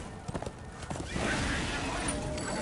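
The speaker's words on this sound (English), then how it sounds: "Oh, and my horse." Horse hooves clopping and a neigh from the video game Darksiders 2, with uneven hoof beats at first, then a sustained whinny-like sound, faint and mixed under game audio.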